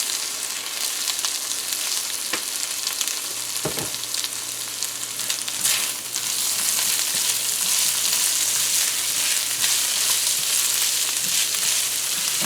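Spanish rice fries in a pan with black pepper and salt, giving a loud, constant hissing sizzle, broken by a couple of soft scrapes as it is mixed.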